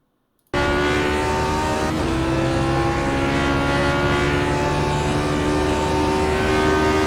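A simulated Lotus 49 Grand Prix race car at Suzuka in iRacing, heard from the cockpit: after a brief silence the engine cuts in at a loud, sustained buzzing drone with strong steady harmonics and slight pitch shifts.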